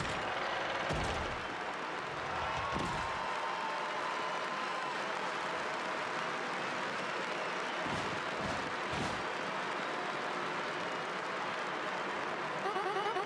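Crowd applause and cheering in the video game Paper Mario: The Thousand Year Door, a steady wash of clapping from an arena audience that holds throughout, with a few louder thumps mixed in.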